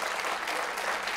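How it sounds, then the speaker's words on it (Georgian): A studio audience at a televised quiz show claps in a dense, steady burst of applause, fairly loud and continuous, with no voices standing out. "აპლოდისმენტებით გავაგებინეთ"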